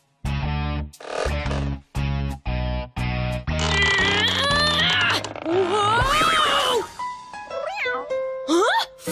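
A cartoon cat meows loudly in a series of drawn-out, slightly strained cries, followed by a busy mix of voices and music.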